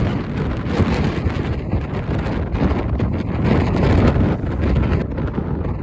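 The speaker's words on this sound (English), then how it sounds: "It's super windy today, 56 kilometers an hour." Strong wind of about 56 km/h in Patagonia buffets the microphone in a steady, heavy roar with gusting swells, loud and close, no voices.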